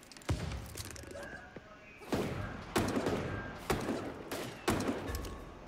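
Game gunfire from a tommy gun in SAR cracks out in several sharp, loud bursts spaced a second or so apart, each with a short ringing tail, over faint background noise.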